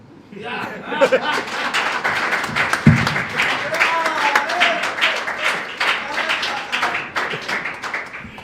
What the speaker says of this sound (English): we've been clapping hands all day, so there's no reason why we can't have another one